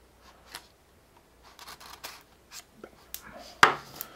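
Scissors cut open a small cardboard box holding a Legendary Edition Nintendo 3DS XL: scattered crisp snips and rustles build to one sharp, loud cut, then a few more close-up scrapes.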